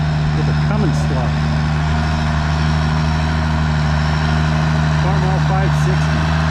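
A Farmall 560 tractor fitted with a Cummins engine sits at a tractor pull, its diesel rumbling steadily and loudly in a constant drone while an announcer talks over it.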